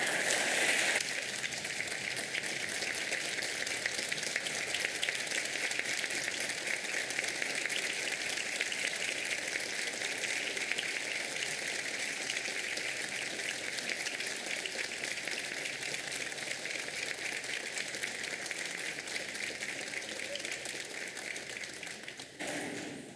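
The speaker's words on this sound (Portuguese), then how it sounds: "receber com uma calorosa salva de palmas o homenageado desta noite" At a formal civic ceremony honouring a new citizen, a large audience gives sustained, dense applause, a steady wash of clapping that runs without a break for over twenty seconds before cutting off.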